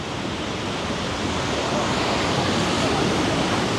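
Ocean waves on Kuta Beach, Bali, roar as a steady, loud wash of surf, with some wind buffeting the microphone.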